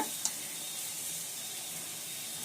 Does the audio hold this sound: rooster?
no